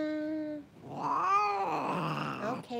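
A large pet cat with a bandaged tail gives drawn-out tonal meows, then a louder wavering yowl that rises and falls, close and clear with no speech.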